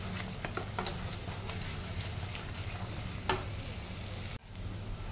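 Spices and chicken masala fry in oil for a potato curry, a steady low sizzle broken by occasional sharp scrapes of a spatula against the pan, moderately quiet.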